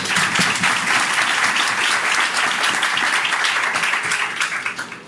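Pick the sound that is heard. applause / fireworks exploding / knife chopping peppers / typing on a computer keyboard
applause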